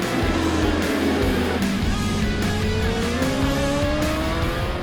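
Racing engines roar loudly and continuously at a street race, with rising and falling revs and pitch sweeps as machines pass close by, no voices.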